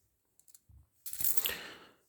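A small silver quarter-florin coin is set down on a hard surface, giving a few light metallic clicks and then a brief ringing rattle as it settles, close and alone.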